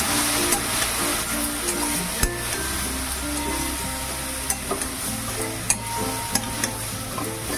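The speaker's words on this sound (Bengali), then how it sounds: "হলুদ গুঁড়ো, দিয়ে একটু নাড়াচাড়া করে নেব।" Turmeric powder and other ground spices are stirred in a frying pan, giving a steady close sizzle with scraping strokes and a few sharp clinks of the utensil against the pan.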